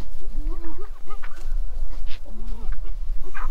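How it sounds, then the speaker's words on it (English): Several chickens cluck in short, repeated, fairly close calls, with bursts of louder noise and some talking mixed in. "Look at them chickens."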